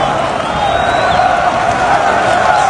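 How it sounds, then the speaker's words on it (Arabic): An Algerian football crowd in Constantine applauds, a dense, steady roar of clapping and cheering from a large stadium crowd that holds at an even level throughout. "تصفيقات الجمهور الجزائري"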